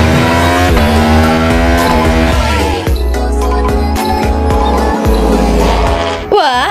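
A toy MotoGP motorcycle plays a loud electronic engine sound, with buzzing tones that rise and fall like revving and a quick rising whine at the end, heard up close.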